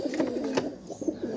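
A domestic flying pigeon gives a short, soft coo close by, a brief burst of low, throaty notes with no other sounds.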